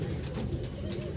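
King pigeons coo softly in a steady low murmur, a continuous throaty rumble close by in a loft, with faint background noise.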